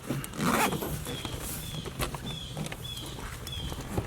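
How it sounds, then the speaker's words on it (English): A zipper is dragged in short repeated pulls along a rooftop tent cover, close by, with rustling and handling noises in between. "I just kind of shove it in like that and then pull the zipper across."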